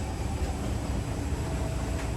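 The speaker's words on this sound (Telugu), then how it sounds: "ట్రైన్ మాత్రం చాలా స్లో మూవింగ్ ట్రైన్" A slow-moving train to Machu Picchu near Cusco, Peru, rolls along with a steady, low rumble and a constant broadband roar, close and even, with no voices.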